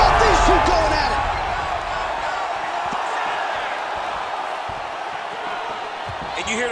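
Arena crowd noise from the UFC 5 fighting video game, a broad sustained roar that swells at the start and holds steady beneath a commentator's voice, with scattered thuds of impacts.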